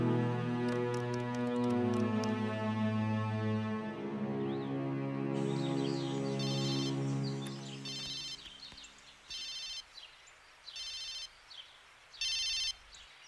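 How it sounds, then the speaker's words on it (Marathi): A telephone rings in a police scene from a Marathi film: three short, bright ring bursts follow at even intervals after the background music fades away. "वाघमारे, आमदारांच्या पियाला फोन लावा."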